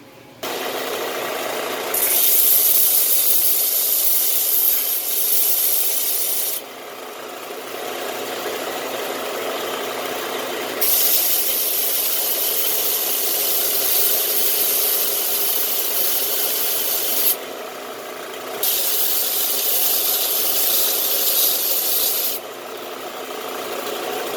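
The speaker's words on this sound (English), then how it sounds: "you turn your belt sander on and then just start smoothing it" A belt sander runs continuously, its motor whining under a coarse abrasive rasp that swells and eases as it presses against the surface.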